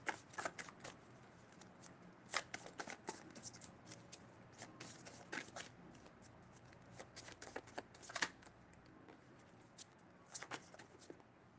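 Tarot cards are shuffled again and again in quiet, soft papery riffles and flutters, with bursts of crisp snaps spread unevenly through an otherwise hushed room.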